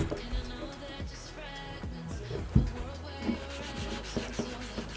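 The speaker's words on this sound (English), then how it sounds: "I removed the factory finish with acetone and cotton wool, and by just rubbing the boot it came off" Cotton wool soaked in acetone rubbed over a Nike football boot to strip the factory finish: continuous close scrubbing friction with repeated rhythmic strokes over a steady background.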